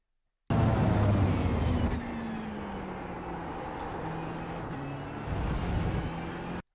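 McLaren GT3 race car engine in the iRacing sim at Mobility Resort Motegi, a loud steady drone that drops in pitch as the car brakes and downshifts to second gear, then rises again under throttle, with no talk.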